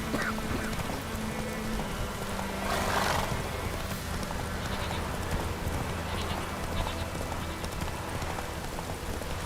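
Horse hooves clip-clopping steadily in Witcher 3 after the rider spurs the mount, a continuous trotting rhythm with a brief whinny amid dense game ambience.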